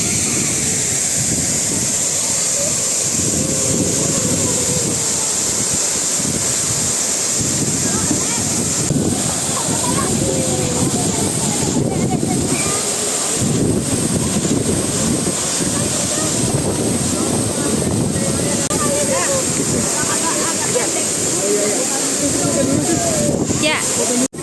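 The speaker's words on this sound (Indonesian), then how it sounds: "Wah, anginnya kencang." Strong wind buffets the microphone at Curug Bidadari waterfall in Sentul, a loud continuous roar with rushing water beneath and people talking and exclaiming throughout.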